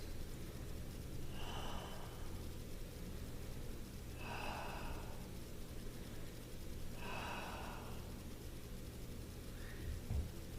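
Three deep breaths taken during a kneeling yoga toe stretch, each a soft, airy inhale-exhale about every three seconds, quiet and close over a low background hum, with a faint fourth breath near the end.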